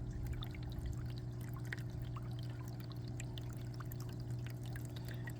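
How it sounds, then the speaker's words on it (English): Nitrate-rich water pours steadily back into a large aquaponics fill-and-drain grow bed, a continuous close trickle over a low constant pump hum, with no talking. "nitrate water is coming back into this large fill, float, and drain bed."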